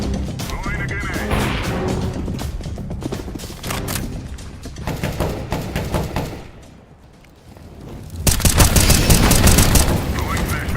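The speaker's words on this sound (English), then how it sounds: "Throwing a grenade." Grenade blasts and gunfire in a Counter-Strike match, a dense run of booms and crashes with a brief lull before a loud final burst, with a player's voice over the action.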